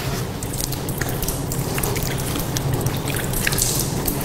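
Water poured over the feet during ritual ablution (wudu), a steady close splashing and dripping that runs without pause, with no talk over it.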